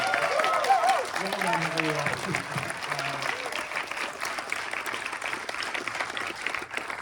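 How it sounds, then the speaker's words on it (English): Another round of audience applause at a film screening Q&A, dense sustained clapping from a crowd throughout, with a voice speaking over it near the start. "another round of applause"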